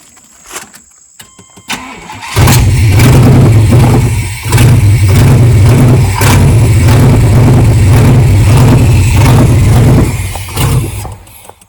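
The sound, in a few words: 1993 Suburban engine running on starting fluid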